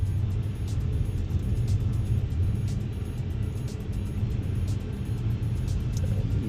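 Car traffic in a Hong Kong jam near the Cross Harbour and Western Tunnel routes, in bad weather: a loud, steady low engine drone inside a vehicle, with faint periodic ticks and no speech.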